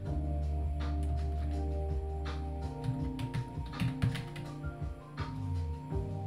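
Irregular key clicks on a computer keyboard, bursts of tapping mixed with steady background hum from the computer, fairly quiet and close.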